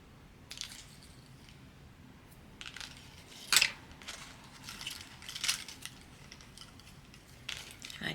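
Scissors cutting paper for an Alaska-themed junk journal aboard a cruise ship, a few soft snips and crisp crunches with one sharper cut near the middle, fairly close and quiet against a low background hum.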